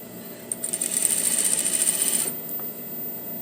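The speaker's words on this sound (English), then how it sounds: "I'm going to do my edge stitch right next to my first stitch that I did" A sewing machine runs in one rapid burst of about two seconds, edge stitching a puff sleeve, its needle hammering close and loud before stopping into quiet.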